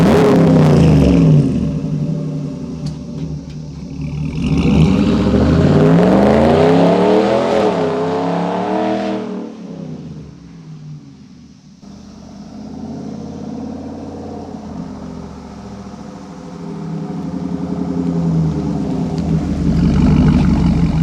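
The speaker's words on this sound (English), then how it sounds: "So let's get it lined up over here and we'll do an acceleration." A 2019 Ram truck fitted with an AWE 0FG exhaust accelerates hard, its raspy engine note rising loud and close, easing off midway, then building again through the gears with no talk.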